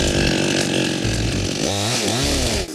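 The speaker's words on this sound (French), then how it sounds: "Notre tronçonneuse est gelée." Loud chainsaw cutting through ice at around minus 40 degrees, the engine note steady at high speed, then dipping and rising through short bogs as the blade bites, before cutting off abruptly at the end.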